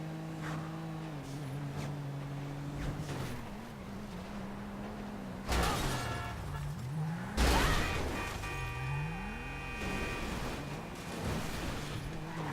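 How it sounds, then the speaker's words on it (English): A battered, damaged car in GTA V rolls on with an engine drone whose pitch wavers and bends, broken by two sudden loud crunching impacts midway, followed by rising and falling revs. "This car is in rough shape, but it's still going"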